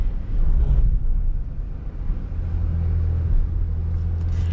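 A 2023 Nissan Pathfinder Rock Creek Edition, a unibody SUV with independent suspension, crawls off-road over rocks, giving a low steady engine rumble with some wind buffeting and faint knocks, no talking.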